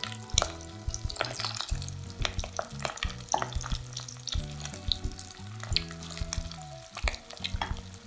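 Minced mutton balls (kola urundai) fry in medium-hot oil, giving a close, steady sizzle and crackle with occasional stirring scrapes and pops, and no voices.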